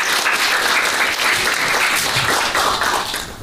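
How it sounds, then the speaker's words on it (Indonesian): A classroom of students claps together in a lively round of applause, loud and close, with brief swells that taper off at the end; no one speaks over it. "Tepuk tangan dong untuk kelas."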